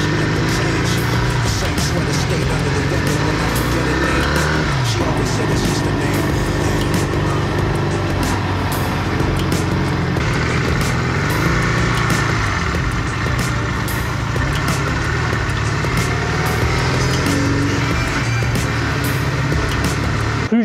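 A motorcycle on a long road ride in Thailand, a constant loud engine drone mixed with rushing wind and road noise, unbroken from start to finish.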